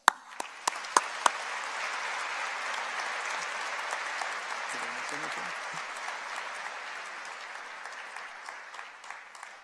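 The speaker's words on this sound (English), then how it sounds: "Round of applause." A white coat ceremony audience at a medical university claps in a steady, sustained round of applause from a fairly distant crowd, holding even throughout.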